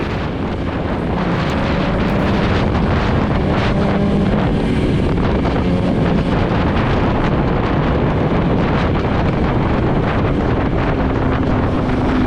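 Yamaha R1 2008 1000cc motorcycle engine drones continuously under heavy wind buffeting, a loud roaring rush throughout as the bike rides along at speed.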